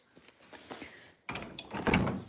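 A door opens indoors: a quiet stretch with faint movement, then a sudden louder burst of rattling and scraping from close by.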